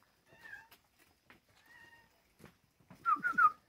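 A kitten on a dairy farm meows several times, soft and high at first, then a quick run of louder, closer mews at the end.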